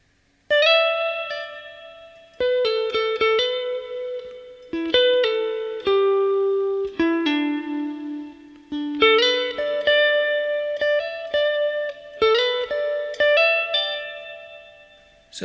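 An electric guitar plays a vocal melody line, picking clear, sustained single notes in short phrases with a light effects tone and no voices.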